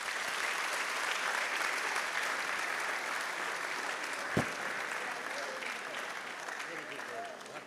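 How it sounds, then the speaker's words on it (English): Sustained, dense applause from a graduation ceremony audience welcoming a speaker to the stage, a steady roar of many hands clapping with one sharp thump partway through and faint voices mixed in. "With a round of applause, please help me welcome Mr."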